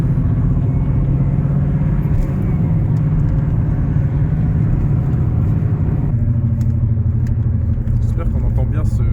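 A BMW 318is E36 rolls along with a steady low rumble of road and engine noise from inside the car, and the exhaust line knocks against the gearbox, while people talk over it.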